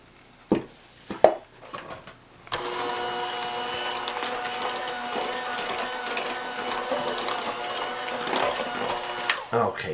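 An electric juicer runs with a steady whirring, rattling motor hum for several seconds after a few sharp knocks and clicks, close and fairly loud.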